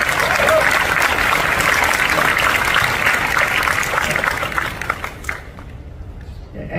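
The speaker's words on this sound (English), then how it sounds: "I don't deserve those applause" Sustained audience applause at a comic convention panel, a loud, dense roar of many hands clapping that holds steady for several seconds before quickly thinning out and fading to near silence.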